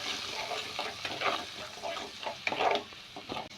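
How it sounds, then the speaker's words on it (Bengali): Kashmiri chili powder spice mix stirred and fried in hot tempering oil for a vegetarian bitter gourd dish, a close, steady sizzle broken by irregular scraping stir strokes. "এবার ওই ফোড়নের মধ্যে আমরা মশলাটাকে দিয়ে দেবো দিয়ে ভালো করে নাড়াচাড়া করব"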